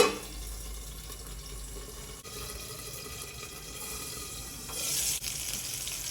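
Green chillies frying in a covered pan, a steady soft sizzle throughout with a brief brighter hiss near the end, close and fairly quiet.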